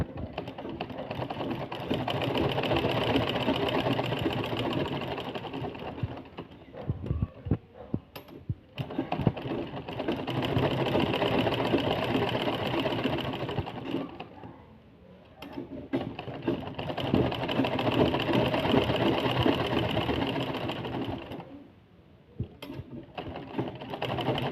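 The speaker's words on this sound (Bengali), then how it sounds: "দেখুন আমাদের চাপ সেলাই দেওয়া হয়ে গেছে।" Sewing machine stitching around the edge of a blouse latkan fabric piece, a close, steady mechanical whir in three long runs separated by brief stops.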